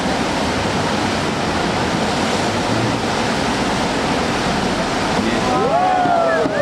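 Dense, steady roar of rushing water at the Eisbach river standing wave, loud and close, with a few brief tonal squeaks near the end and no clear talk.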